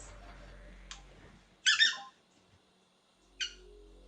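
A squeaky dog toy squeaks for a puppy, with two loud high-pitched squeaks close together and one more a moment later, alone in a quiet room.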